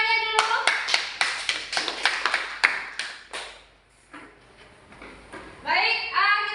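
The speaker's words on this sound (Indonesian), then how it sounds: "tepuk tangannya dulu." An audience at a teacher-education gathering at IAKN Ambon claps in a burst of close, crisp applause that fades after a few seconds, followed by voices and a short second round of claps.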